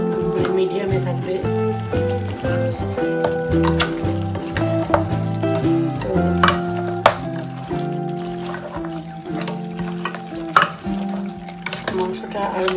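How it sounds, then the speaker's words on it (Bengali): Cow meat and spices being stir-fried for a Bangladeshi shatkora curry, with steady sizzling, stirring and scraping of a spoon against the pan, close and continuous, while a voice talks over it. "মাংসটা আর মশলাটা একসাথে কষানো হয়ে গেলে"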